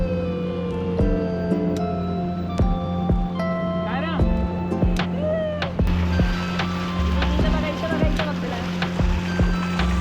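Steady motorboat engine drone with water wash on a ride through Konkan mangroves, a constant low hum under scattered clicks and bird-like chirps.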